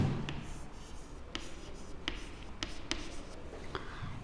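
Marker strokes squeak and tap across a classroom board as a word is written, with a series of short, sharp contacts spread over a few seconds against a quiet room background.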